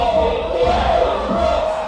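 A crowd at a Smash Bros. combo showcase roars and cheers in a loud, sustained burst of shouting voices lasting under two seconds.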